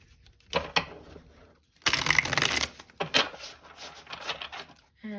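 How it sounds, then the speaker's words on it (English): Cards riffled and shuffled in several quick bursts, separated by brief pauses, close and crisp. "we will do one last shuffle"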